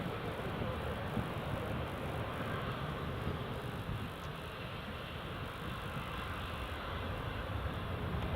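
A Citation business jet passing at Newcastle International Airport in rainy weather, a steady broadband engine roar that holds at an even level throughout, with no voices over it.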